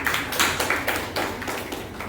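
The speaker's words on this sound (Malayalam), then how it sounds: "ഒരു ക്ലാപ്പ് കൊടുത്ത് നോക്കളെ" Scattered claps ring out from a small class audience, uneven bursts of a few hands, moderately close and somewhat sparse rather than a full ovation.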